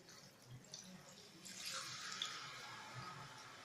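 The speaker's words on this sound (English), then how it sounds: "Now we should pour water," Water poured into a pot of chicken curry, a soft steady splashing stream that swells after a quiet start and runs on to the end, fairly faint and close.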